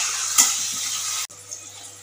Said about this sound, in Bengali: তাই ভেজে নিয়ে ওই ডালের মধ্যে দিয়ে দেবো